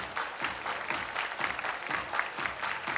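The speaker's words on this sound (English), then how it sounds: "Everybody clap your hands." A crowd at a minor league baseball game claps steadily in a loose, continuous rhythm, fairly loud and sustained throughout with no voices standing out.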